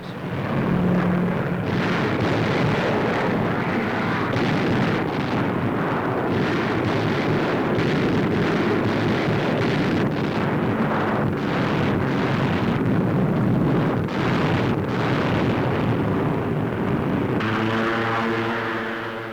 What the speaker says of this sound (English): low-flying B-25s unload tons of delayed action bombs